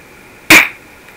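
A single sharp pop as a foam X-dart fires from a pistol, close and loud, decaying quickly into near silence.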